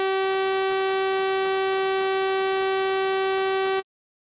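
A sawtooth synth tone played in FL Studio at a high PPQ setting holds one steady, loud, buzzy note for nearly four seconds, with a faint click near the start, then cuts off abruptly into silence.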